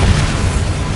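A Bombarda exploding spell lands in Hogwarts Legacy, a short, dense boom that sounds for about a second and stays loud throughout.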